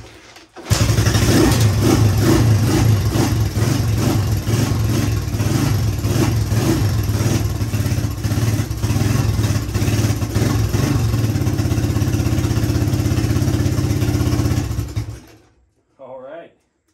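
A 1986 Honda XR200R dirt bike engine, long idle and in need of a carburetor clean, fires up and runs loud and steady for about fourteen seconds with uneven revving, then cuts off abruptly, leaving near silence.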